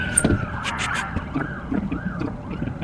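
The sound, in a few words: siren outside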